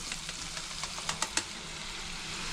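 Masala-coated peanuts going into hot oil for a quick snack fry with a steady close sizzle, a few sharp crackling pops rising above it near the middle.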